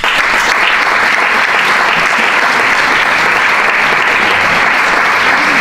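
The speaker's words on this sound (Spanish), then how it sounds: "Me gustaría, por favor, que recibiéramos con un fuerte aplauso a Isaías Lafuente" An audience at a women's forum event claps loudly and continuously to welcome a speaker, a dense, even wash of applause close by that holds steady from start to finish.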